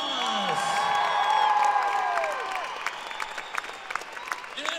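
A large concert audience at a Christmas show in Manchester applauds and cheers loudly for the crew, with whoops and sustained clapping that swell and then thin out into scattered claps toward the end.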